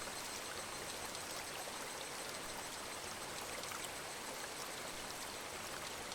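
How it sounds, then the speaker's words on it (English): Steady running water, a constant broadband hiss and splash with no breaks or rhythm, moderately loud and even for several seconds with no voices. "it's literally just water going"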